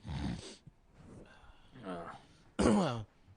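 A nasal snort and a rough throat-clearing burst from one person, loud and close, the clearing sound sharpest near the end, with brief breathy noises between.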